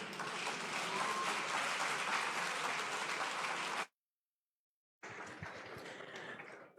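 Sustained audience applause at a Nigerian public service celebration event, a dense wash of clapping that cuts out briefly and then resumes, fairly steady and moderately loud.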